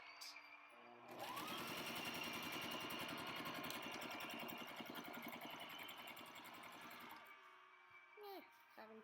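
Sewing machine hemming a tablecloth and adding lace trim, running in a fast steady rapid stitching rattle for several seconds close by, then stopping, with brief quiet voices near the start and end.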